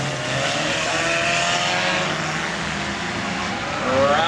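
Race cars roar around the final lap of a demolition derby at the PNE, with loud, sustained engine noise and revving that swells near the end.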